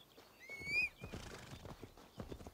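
A horse in Assassin's Creed Valhalla gives a sharp, high whinny, followed by a run of hoof clip-clops on the ground, fairly close and clear with no talking.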